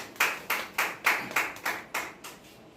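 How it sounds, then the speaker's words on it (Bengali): A small audience applauds at an award felicitation ceremony for business achievers, giving about eight sharp, evenly spaced claps in close succession that fade slightly toward the end. "হাততালি হবে একটু।"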